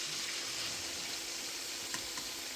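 Meat patties searing in butter in a sauté pan, a steady soft sizzle with a few faint pops and clinks toward the end.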